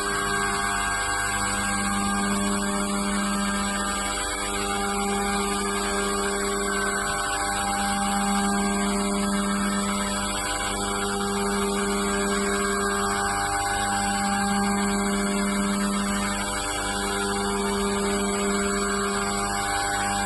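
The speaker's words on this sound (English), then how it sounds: "Here you can see the start of machining the second port" CNC machine porting a 4-valve cylinder head for a Yuminashi F220DP, a steady loud machining drone with a constant tone and faint rhythmic pulsing every few seconds, no voices.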